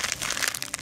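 Plastic packaging of a cheap JOOM parcel crinkles and crackles as it is torn open, a short, busy burst of crumpling close by.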